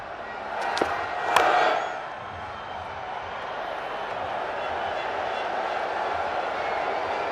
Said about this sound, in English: The crowd have been right into this from ball one.